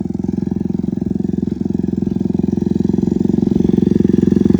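A motorcycle idles and revs close by, its engine and exhaust producing a loud, rapid, even putter that grows slightly louder toward the end.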